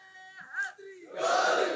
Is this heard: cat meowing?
no